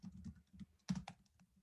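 Quiet, close typing on a computer keyboard during a live online Python programming lecture: a quick run of soft, uneven key taps with one firmer stroke near the middle, no voice.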